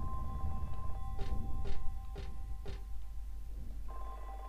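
Old-style telephone ringing in the video game Silent Hill 3, four short bright rings spaced evenly over a steady low ambient drone, fairly close and clear.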